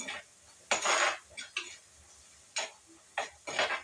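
A spoon clinks and scrapes against a pan as coriander powder is stirred into kozhuva fish, heard as a few short, separate clatters with quiet gaps between, fairly faint and with no talking.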